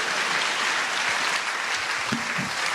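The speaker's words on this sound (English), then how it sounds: "Applause until I leave the stage" Audience applause at a year-end stage show as a performer walks off, a full, steady wash of clapping from a crowd, sustained and even, with a brief low voice sound near the end.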